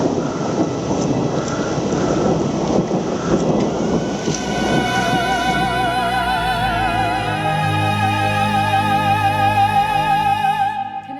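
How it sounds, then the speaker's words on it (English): Thunder rumbles through a storm outdoors, a loud continuous low roll that swells and lingers for several seconds, with a steady tonal hum joining in the second half. "Ooh, and the thunder still with us."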